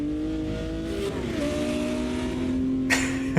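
Modded race car engine in Automobilista 2 drones steadily at close range with a shifting pitch, briefly dipping before settling, with a short burst of tire or gravel noise near the end; no talking.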